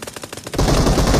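Rapid gunfire in the BGMI mobile battle royale game: a quick run of sharp repeated shots, then dense, loud overlapping fire that continues to the end.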